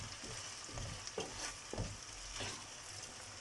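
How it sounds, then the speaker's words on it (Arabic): Vegetables and seafood sizzle and fry in a pan for a Spanish-style seafood paella, with steady crackling and a few soft scraping stirs at intervals, close and moderate in level, no voices. "وتنشحروا هنا الخضيره والحوت تنشحرهم"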